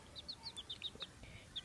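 Young chicks peep in a backyard by a pond, a run of short high chirps repeating every fraction of a second, faint and close with quiet background.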